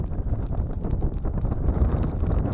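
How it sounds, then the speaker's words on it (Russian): Strong piercing wind during a blizzard on a frozen lake while ice fishing for pike, buffeting the microphone as a loud, continuous, gusty roar with no talking. "Ветер такой пронизывающий"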